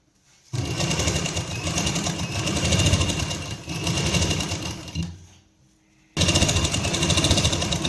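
Sewing machine stitching pieces onto a fitted suit, a loud close steady whir in two long runs, then a short stop before it starts again.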